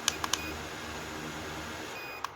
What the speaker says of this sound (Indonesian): Kita nunggu notifikasi beep.